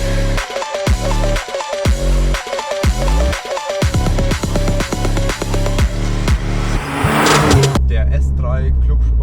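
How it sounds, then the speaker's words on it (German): An MTM-tuned Audi S3 Clubsport with a Stage 2 setup and 528 PS revs hard in a series of loud, close throttle blips, its engine note rising and falling sharply before ending in a longer, rougher roar. "das ist der Audi S3 Clubsport von MTM"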